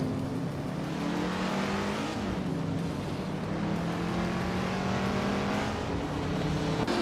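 Several race cars in a racing video game jostle for position, engines droning loudly and continuously with pitch shifting as one overtakes another, a dense steady roar with no voices.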